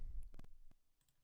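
A computer keyboard gets a quick, faint burst of scattered clicks and key taps, a few isolated strokes over a low background rumble, with no talking.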